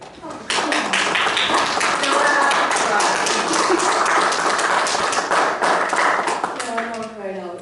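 Group clapping at a Webster Township planning commission meeting: dense, steady applause fills the room for about six seconds, then thins out as a voice begins speaking near the end.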